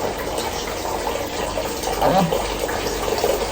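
Shower water runs steadily in a continuous hiss, with a brief splashing gush partway through as a person speaks a word over it.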